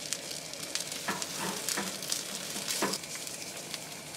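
Thawed frozen food fries in a pan with a steady sizzle, broken by a few brighter crackles and spits as it is stirred; close and moderately loud with no talking.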